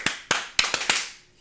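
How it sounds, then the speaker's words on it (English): Five sharp hand claps in an uneven, loose rhythm, close and fairly loud, with no talking, from a person watching and discussing WrestleMania wrestling at home. "I was late on my claps."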